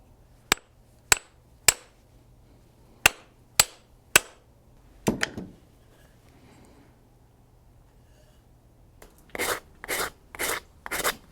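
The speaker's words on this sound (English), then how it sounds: "I think I'll do one more hammer on, look at the marks, make a fine adjustment" Hammer blows on a wooden wedge being set into a tree branch made into a tool: six sharp, evenly spaced strikes, a brief scraping clatter, a quiet gap, then four duller knocks in quick succession, all close and without talk.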